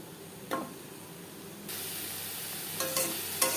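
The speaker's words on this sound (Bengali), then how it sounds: "3-4 মিনিট সয়াবিন ভেজে নেওয়ার পর একটা পাত্রে উঠিয়ে নেব।" Soybeans fry in a pan with salt and turmeric, giving a steady hiss and sizzle that swells louder partway through, broken by a few sharp scrapes of stirring.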